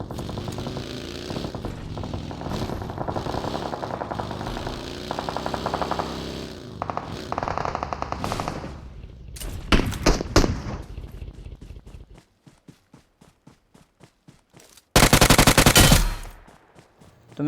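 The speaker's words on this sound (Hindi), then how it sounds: "कार में बैठकर आगे से गन साउंड आ रहा था।" Rapid bursts of in-game gunfire in PUBG on the Erangal map, UMP and Uzi automatic fire cracking close and loud in repeated volleys, with a dense sustained burst near the end.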